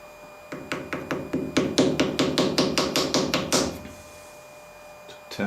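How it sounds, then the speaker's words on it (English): A small hammer taps over a miniature M1911 pistol magazine held in a vise, a quick steady run of about fifteen close metallic taps that speeds slightly before stopping, followed by quiet. "I'm going to peen this over."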